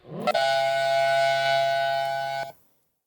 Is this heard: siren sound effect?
yes